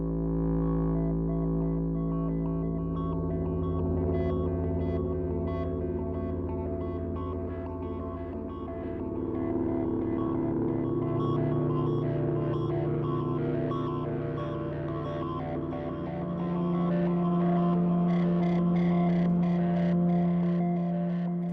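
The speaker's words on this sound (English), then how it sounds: "So we're going to start off with the bass clarinet, and I'm just going to play a couple of infinite pads." Sustained bass clarinet infinite pad from the Vela Woodwinds sample library by Emergence Audio, a dark, throbbing drone with slowly shifting layered tones and a brighter note swelling in near the end, steady and continuous with no talking.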